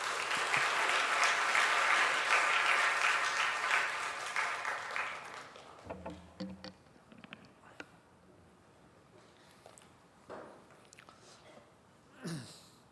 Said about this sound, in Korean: 우리 잘 전해 달라고 우리가 박수로 환영하면 좋겠습니다.